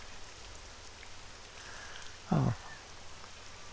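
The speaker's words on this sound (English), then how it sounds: "It's raining in Morrowind." Steady rain falls in the video game Morrowind, in the town of Balmora, a soft continuous patter with a brief spoken exclamation partway through.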